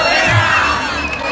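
A crowd at a kiss-cam event cheering and shouting for a woman, a brief burst of mixed voices whooping and yelling together, loud and close.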